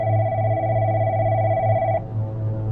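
A home telephone in a house rings with a steady electronic tone, loud and close, then the bright ringing cuts off partway while a low hum carries on.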